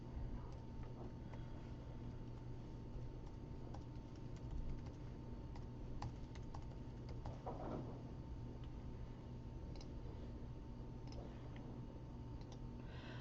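Computer keyboard typing while data is entered into SPSS statistics software, a steady run of faint, fast key clicks going on alone with no talk.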